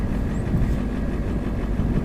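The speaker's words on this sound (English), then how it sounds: "we're going to fire up the tractor and" A John Deere 2240 tractor engine cold-starting on a morning 16 degrees below zero, heard as a steady, close, low rumble that holds without a break for the whole stretch.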